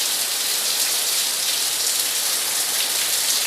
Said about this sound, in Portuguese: Chuva boa, mas essa foi bem forte